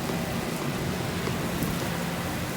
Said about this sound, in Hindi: तो देखो कैसे आज बारिश है।